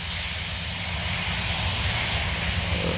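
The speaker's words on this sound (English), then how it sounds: "This one is a 737 as well. Let's see if it's gonna roll takeoff." Boeing 737-800 jet airliner on a rolling takeoff at Paris Orly, a steady loud broadband engine roar that holds evenly throughout with no talk over it.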